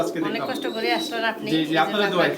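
Pigeons coo at a pigeon farm in a home setting, soft throaty rolling calls close by, mixed with people talking.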